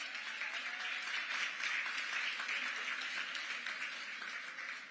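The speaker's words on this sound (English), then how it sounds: "Let's give another round of applause." Sustained applause from an audience at an employee-of-the-year honours ceremony, steady and fairly distant, holding an even level for several seconds before easing slightly at the end.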